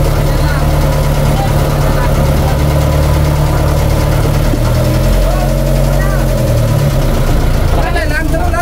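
A boat engine idles in neutral out on the West Philippine Sea, giving a loud, steady, vibrating drone that runs unbroken throughout while people talk over it.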